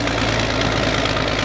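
Caterpillar tractor engine running steadily, a loud, close, continuous low rumble with a slight knocking pulse and no voices.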